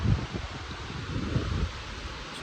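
Blustery wind rushing through foliage at a British Columbia campsite, a steady rustling roar with gusty low rumble against the microphone, continuous and fairly close.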